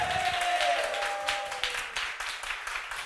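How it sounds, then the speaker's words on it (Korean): A church congregation applauds together at a Sunday service, a dense, steady wash of clapping that fades slightly toward the end, with a sustained tone from the room's sound system running beneath the first half. "영광의 하나님께 박수."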